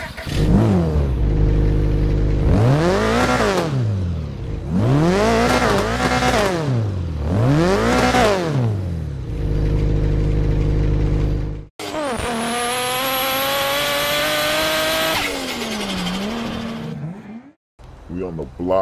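A custom turbocharged Volkswagen Beetle rat rod in a driving video game revs loudly in repeated rising and falling bursts, then accelerates hard with a sustained high-pitched engine whine and turbo tones.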